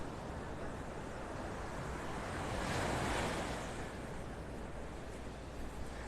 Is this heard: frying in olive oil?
no